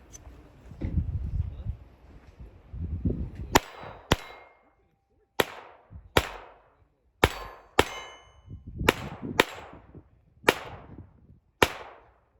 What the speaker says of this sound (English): Firing everything like champ, man.